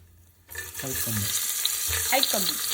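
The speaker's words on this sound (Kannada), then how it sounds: "ಅರ್ಧ ನೀರುಳ್ಳಿ ಅಂತ ಇತ್ತು, ಅದು ಕಟ್ ಮಾಡದ್ದು ಸಪೂರ ಮಾಡಿ ಅದನ್ನೀಗ ಹಾಕ್ಕೊಂಬ" Thinly sliced onion hits hot ghee and oil in a home kitchen pan for mutton chops, bursting into loud, steady sizzling after a half-second pause, with stirring scrapes over the frying.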